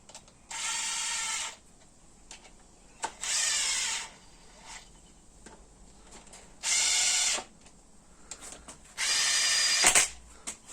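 A power tool snugs in the crankshaft bolts on a 420A Eclipse engine in four separate bursts of close, loud whirring, each lasting about a second, with quiet gaps between them.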